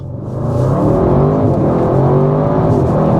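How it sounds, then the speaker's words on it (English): A 2025 Audi RS6 GT accelerating hard at full throttle, heard from inside as a loud, deep engine roar that swells quickly and then holds, its pitch climbing steadily with gear changes. "Let's now give the Audi RS6 full throttle to see how fast it is"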